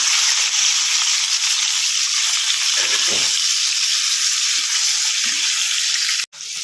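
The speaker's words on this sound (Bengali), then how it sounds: "মাছ ভাজাটা একদিকটা হয়ে গেছে উল্টে নিতে হবে" Constant loud sizzle of hilsa fish frying in oil, broken briefly near the end by a short sharp knock.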